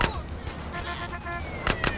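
Vehicle blowing up in GTA San Andreas, heard as a loud burst of explosion-like bangs near the end, over a busy game soundtrack with voices.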